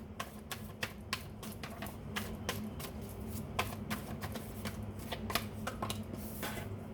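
Tarot cards are drawn and handled from a deck, giving faint, close, rapid papery flicks and taps in an irregular stream, quiet and alone with no talk over them.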